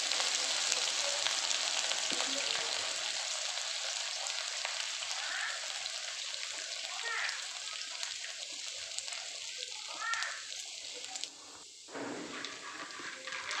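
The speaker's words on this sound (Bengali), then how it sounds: "এবারে এর মধ্যে দেব টুকরো টুকরো করে রাখা আদা কুচি" Chopped ginger frying in hot oil with curry leaves for chira pulao, a steady bright sizzle with occasional pops and stirring, continuous and close, briefly dipping near the end.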